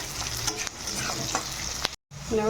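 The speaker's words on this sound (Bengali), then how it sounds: "পেঁয়াজ কুচনো করে রাখা পেঁয়াজ, তেজপাতা, পেঁয়াজটা লাল করে নেবো" Chopped onions and a bay leaf fry in hot oil in a wok, a steady close sizzle with stirring scrapes, broken by a brief silent gap before the frying resumes.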